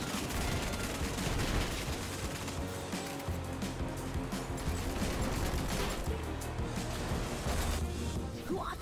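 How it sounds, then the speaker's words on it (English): Gemini cannons in the video game Agent Intercept fire in a dense, continuous barrage of rapid shots, loud and sustained with heavy low rumble and crashing bursts throughout. "I've deployed Gemini cannons. They're bleeding edge tech,"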